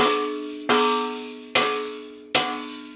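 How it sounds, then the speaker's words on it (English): Four sharp metallic hits with ringing, bell-like decay come from the cracked subframe of a BMW E30 M3 as it rattles, each clang spaced under a second apart and heard alone. "your subframe shouldn't sound like this"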